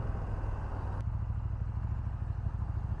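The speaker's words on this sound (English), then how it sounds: "The engine revs are so low." A big single-cylinder thumper motorcycle engine drones steadily at low revs, a close, continuous rumble with rushing wind noise.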